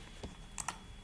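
Quick keystrokes on a computer keyboard, a few soft clicks with a brief double tap, close and quiet in a still room.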